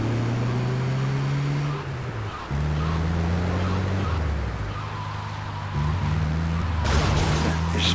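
Ocean surf from GTA Vice City surges steadily, with continuous wash and broad wind-like noise beneath steady engine drones from a boat with two outboard motors.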